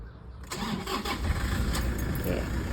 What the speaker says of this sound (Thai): เดี๋ยวเรามาสตาร์ทฟังเสียงเครื่องค่ะ